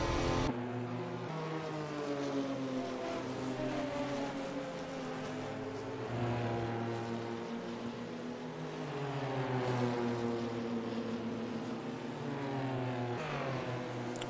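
Several Porsche race cars battle closely in a GT endurance race at Le Mans in the rFactor 2 racing game, their engines droning loud and continuous with pitch rising and falling through gear changes, overlapping one another with no talk.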